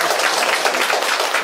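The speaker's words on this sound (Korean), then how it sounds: "박수 주십시오" Applause from an audience at a residents' public forum on redeveloping a local market fills a short burst of steady, dense clapping, close and fairly loud throughout.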